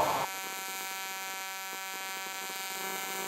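AC TIG welding on aluminum with an HTP Invertig 221 inverter welder, giving a steady, harsh electrical buzz and hum that runs unbroken for the whole span after a brief louder start, with no talking.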